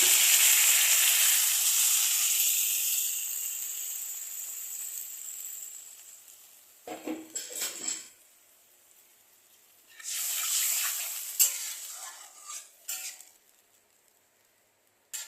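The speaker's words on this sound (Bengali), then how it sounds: "এখন দিয়ে দেবো জল।" Water poured into a hot pan of rohu fish curry spices bursts into a loud hissing sizzle that slowly dies away, followed by a few short splashy bursts of bubbling.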